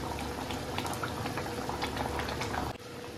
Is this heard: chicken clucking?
no